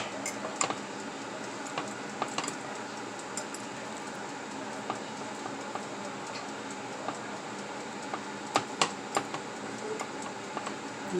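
A spoon scrapes and taps faintly in a pot of collard greens and potatoes, soft irregular stirring clicks over a steady low kitchen hiss.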